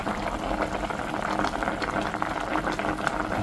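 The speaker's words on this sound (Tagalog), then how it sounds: "Kumukulo na mga kabayan." Broth with pepper bubbles at a rolling boil in a pot, a continuous close, even bubbling and hissing.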